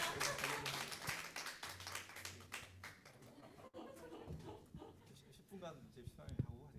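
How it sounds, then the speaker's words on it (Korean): Scattered hand clapping from a church congregation at a Sunday worship service, faint and uneven, mixed with voices talking and murmuring over it throughout. "박수 좀 주세요."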